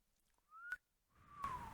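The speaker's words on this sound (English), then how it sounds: "I've learned to like suck in air when I whistle." A person whistling while drawing air inward produces two breathy, gliding tones: a short rising note, then a longer, louder falling note with an airy hiss, alone and close.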